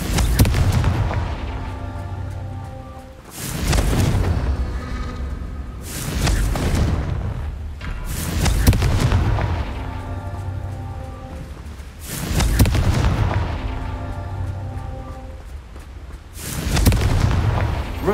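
Fire spell explosions in the video game Hogwarts Legacy, five heavy booming blasts spaced about every three to four seconds, each a loud burst that rumbles and fades into a crackling tail, with no talking.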